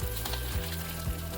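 Curry leaves frying in a pan with urad dal and red chilies, a soft continuous sizzle with a low tonal hum underneath and a couple of faint scrapes, heard alone without any voices.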